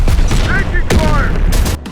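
Sharp bursts of gunfire crack through a skirmish in Terminator: Dark Fate - Defiance, a few loud volleys over short radio-style voice callouts.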